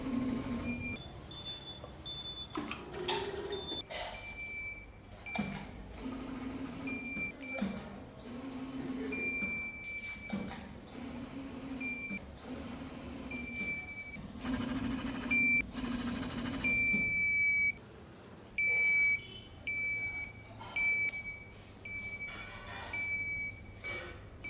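A semi-automatic vertical auger powder filling machine running in repeated cycles, with bursts of mechanical noise and sharp high electronic beeps over a steady hum, without talk.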